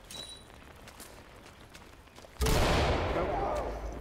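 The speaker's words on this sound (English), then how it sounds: "Flashbang out." A flashbang grenade goes off indoors in Ready or Not, a sudden loud bang that follows quieter movement and a few faint sounds, then fades into a ringing, hissing tail.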